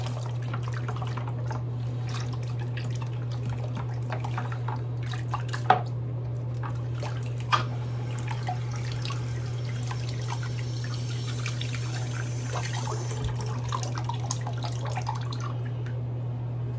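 Running tap water rinses a shave soap tub at a sink, a soft continuous trickle with a few faint clinks and drips over a steady low hum.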